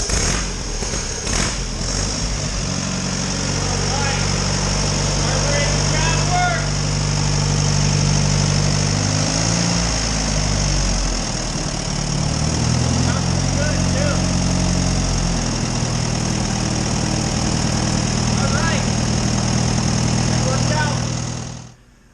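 Allis Chalmers WD45 tractor engine, just after a carburetor rebuild, turning over, firing up and settling into a steady, loud, close idle with an uneven low rumble that wavers midway, then cuts off abruptly at the end.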